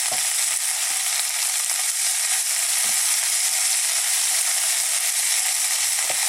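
Collard greens and kale sizzle loudly in a hot pan as they wilt, a dense steady frying hiss with occasional soft knocks of stirring.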